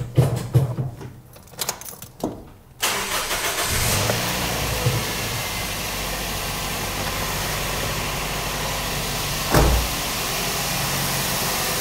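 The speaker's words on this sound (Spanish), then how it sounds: "Colocamos esto y vamos a arrancar el motor." A car engine in good balance cranks over and fires during a compression check, then settles into a steady, loud idle that holds with only a brief surge near the end.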